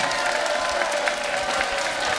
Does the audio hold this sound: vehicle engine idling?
no